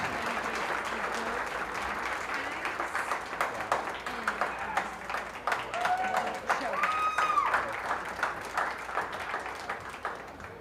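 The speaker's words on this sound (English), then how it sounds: "Let's give them a nice round of applause for a really good job" Crowd applause for the winners at a 2025 junior fair sheep show, sustained hand clapping in an arena with an announcer's voice and brief animal or whistle-like tones over it.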